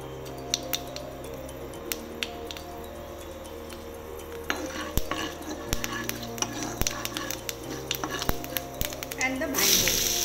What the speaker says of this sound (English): I'm adding the methi seeds now